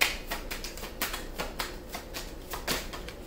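Tarot cards shuffled by hand during a money reading, giving a run of quick crisp flicks and riffles at a steady close rhythm with no voice.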